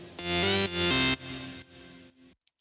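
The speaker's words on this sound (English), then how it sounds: "I made these kind of dubsteppy type sounds" Dubstep-style synth sounds blare in loud, buzzy, harmonically rich bursts with wobbling pitch, a few sustained stabs that step down in level before cutting off into near silence, heard alone.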